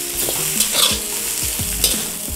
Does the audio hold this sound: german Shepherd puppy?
no